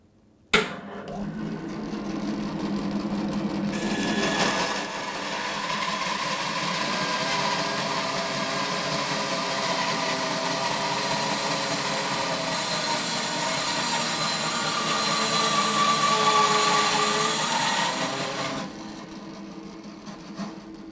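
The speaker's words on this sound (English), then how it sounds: "we've got a piece of 8-inch oak that we're just going to cross cut" Record Power BS350S bandsaw with a 1.5 horsepower motor cross cutting an 8-inch oak board, a loud sustained grinding rasp as the blade works through the wood, with the motor's hum before and after the cut.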